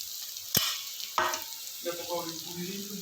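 Bitter gourd tipped into a pan of frying onions lands with two sharp clattering bursts, followed by a soft, steady sizzle and some stirring, with faint voice-like tones toward the end.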